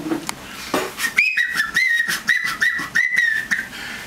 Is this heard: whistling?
yes